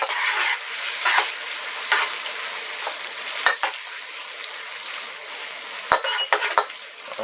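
Beef stir-frying with tatsoi in a hot pan, a steady loud sizzle broken by several sharp clacks and scrapes of a utensil against the pan.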